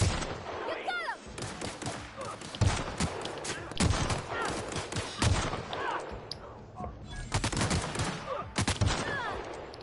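Rifle gunfire in the sci-fi game The Outer Worlds, a string of loud, sharp shots at irregular intervals with booming tails, mixed with combat sounds and a voice talking between shots.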